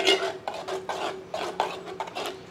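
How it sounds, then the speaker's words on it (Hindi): A ladle stirs chicken gravy with yogurt in a pot, scraping and clinking against the metal in repeated close strokes about twice a second, with no talk. "अभी तो इसमें सिर्फ हम करछी चलाते"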